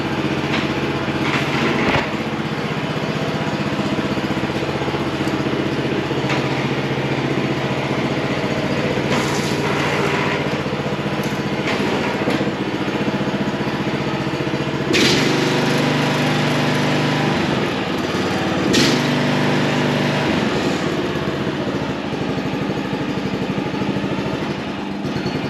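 A John Deere JX75 walk-behind lawn mower engine runs steadily at a low idle, a loud continuous drone close by with a few brief surges in pitch, no voices.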